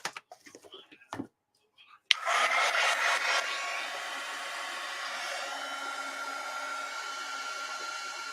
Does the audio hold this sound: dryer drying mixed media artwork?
yes